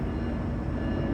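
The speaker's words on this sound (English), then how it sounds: "We're going to pause for a moment while this lovely train goes by my house" A passing train rumbles by a house with a loud, steady wall of low, broad noise that fills the whole moment without letting up, and no voices are heard over it.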